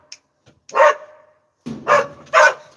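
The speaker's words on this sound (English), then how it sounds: "I can't stand that loud bark" A dog barks loudly indoors, three sharp close barks after a faint yip, with short silent gaps between them.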